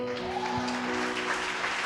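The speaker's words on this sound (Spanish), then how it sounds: "Dar un aplauso al Señor." Applause from a church congregation praising the Lord, a steady wash of clapping with sustained tones from an organ or keyboard held underneath.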